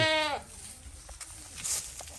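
A baby goat bleats once during kidding season on a small farm, a short, close, quavering cry at the start, followed by faint rustling and background noise.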